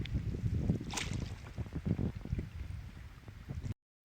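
A small boat paddled across a lake makes soft, irregular watery swishes and lapping under steady, rumbling wind buffeting the microphone, continuous and close, then it cuts off abruptly.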